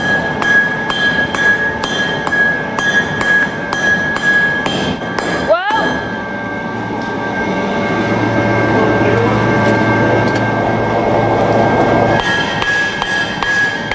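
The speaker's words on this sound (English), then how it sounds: "Repeated hammering flattens and hardens copper by compressing the copper atoms into a tighter configuration." A hammer strikes a copper billet to flatten it into sheet, giving a brisk run of sharp metallic clinks in steady rhythm, followed by a steadier working clatter with a low hum in the background.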